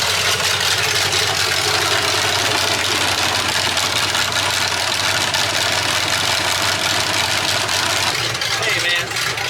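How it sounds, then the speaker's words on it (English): Drift rally car idling with a blown head gasket, a loud steady low engine rumble with a rough, knocking edge, held close throughout while voices talk over it. "But we did get the car running again."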